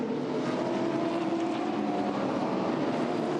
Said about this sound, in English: But you get to that straight line, and Mustang Sally, she opens up, and away she goes.